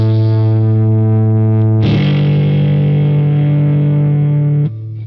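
A Boss Katana 100 guitar amplifier rings out a sustained distorted chord, then a fresh louder strum with effects and reverb that holds and decays before cutting off near the end.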